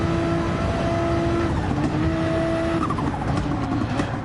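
Race car engine in Gran Turismo 7, a full-on race at Le Mans or Dragon Trail, droning steadily with shifting pitch, tires squealing and skidding in the latter half, loud and continuous with no talk.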